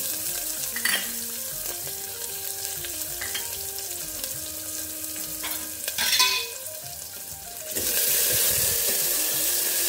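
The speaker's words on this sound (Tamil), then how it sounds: "இது நல்லா வதக்கிட்டு இந்த தக்காளியும் போட்டுக்கலாம்" Onion with green chilli and curry leaves sautéing in a pan, loud steady sizzling with stirring scrapes and a brief rush of water near the end, no speech.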